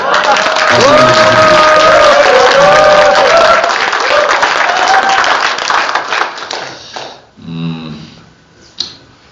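Applause from a crowd at a Democratic Party members' training lecture in Korea, loud and dense for several seconds with cheering voices over it, then thinning to scattered claps as talk resumes near the end.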